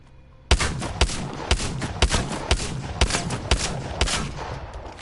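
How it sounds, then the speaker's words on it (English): The Eva full-auto shotgun fires in a video game as a rapid string of about nine loud, sharp blasts at roughly two per second, each with a short booming tail, close and dominant after a brief quiet start. "the Eva, is a full auto shotgun."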